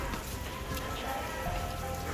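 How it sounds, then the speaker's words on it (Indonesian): Steady rain falls on a beach at Jungwok in Gunung Kidul, Yogyakarta, a dense, even hiss with scattered drop patter and no pauses. "kita disambut oleh hujan."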